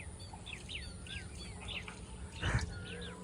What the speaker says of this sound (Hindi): आवाज़ सुनो चिड़ियों की